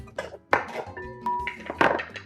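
Cocoa powder is stirred into a rum ball mixture of chocolate and macadamia, with irregular clinks and scrapes of a utensil against a bowl, one ringing ping among them, and moderately loud clatter throughout.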